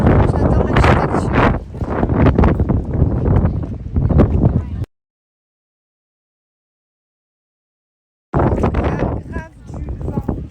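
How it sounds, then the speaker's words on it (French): Strong wind buffeting the microphone outdoors on Mykonos, a loud rumbling roar in two bursts separated by a few seconds of silence, with voices mixed into the noise. "Il fait pas froid mais il y a du vent."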